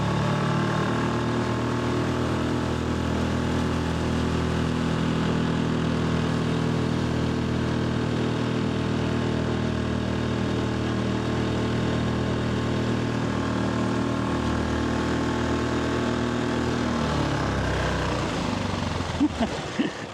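Tohatsu 4HP outboard motor on a Pelican Bass Raider boat running at higher throttle, a steady, close, loud engine drone with strong tonal hum that holds for most of the stretch, then drops and changes near the end.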